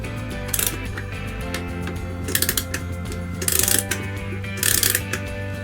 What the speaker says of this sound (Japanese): このガリガリ巻くところね